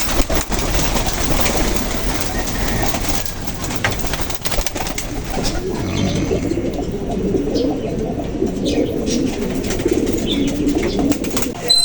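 Pigeons coo in a loft among a flock of kept racing birds, with dense continuous noise, rustling and clatter close by, loud and busy throughout with no clear pauses.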